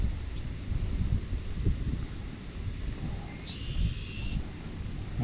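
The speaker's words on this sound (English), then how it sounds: "You can hear the wind, I'm sure." Strong wind outdoors by the bay buffets the microphone in uneven low rumbling gusts. It blows continuously with no clear talking.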